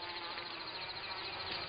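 A close, continuous buzz of a stingless bee hovering nearby, steady and droning throughout.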